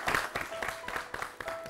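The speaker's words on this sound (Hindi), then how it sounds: "जोरदार तालियां।" A studio audience applauds at a televised women farmers' awards ceremony, a quiet wash of many hands clapping in uneven bursts that rise and fall over a short span, with faint voice-like tones mixed in.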